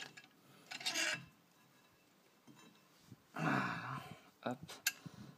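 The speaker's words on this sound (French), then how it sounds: "plus je visse et plus le piston on va rentrer dans son logement" Renault Twingo front brake caliper piston being screwed back into its housing during a pad change, with a few short rasping, scraping bursts separated by quiet gaps, up close.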